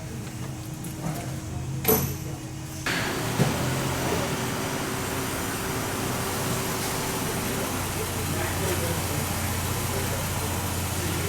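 A repaired Dodge Durango engine idles quietly and steadily throughout, a low even hum with a brief clunk and rustle near the start.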